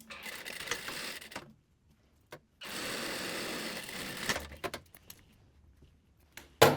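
Sewing machine stitching the lining of a mermaid-style dress, running in two close bursts of a second or so and a longer steady run near four seconds, with short clicks and handling noises between, no talk.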